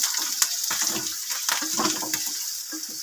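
Mustard seeds, spices and curry leaves sizzle steadily in hot tempering oil with turmeric powder, a constant close crackling hiss with small pops, no talking.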